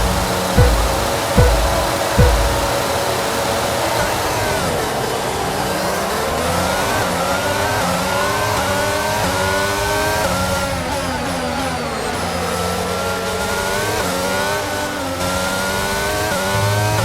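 Formula 1 car engine in the racing game F1 22, running with heavy internal combustion engine wear, a continuous loud high-pitched whine rising and falling with revs after a few sharp bursts at the start, with no talk over it.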